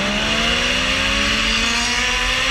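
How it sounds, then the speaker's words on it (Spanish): A Ferrari's engine revs past at high pitch, a loud continuous whine rising and sweeping through its gears over a constant roar of road noise. "Otra vez de la Ferrari."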